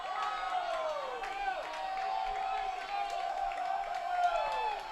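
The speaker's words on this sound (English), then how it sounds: "Crowd getting boisterous here at Edinburgh Baseball Stadium" A boisterous crowd at Edinburgh Baseball Stadium during a college baseball game keeps up a steady roar of cheers and whoops, with distant shouts and whistles rising over the din throughout.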